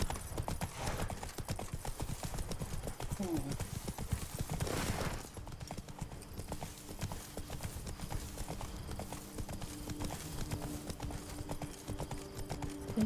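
Roach, Geralt's horse in The Witcher 3, clip-clops at a steady walking rhythm throughout. Around the middle comes a brief whinny and a few faint game sounds, with no speech.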